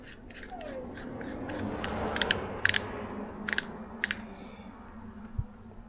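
Quick ratcheting clicks from a ratchet tightening something at home, several short crisp bursts of clicking separated by pauses, close and fairly loud over a quiet room.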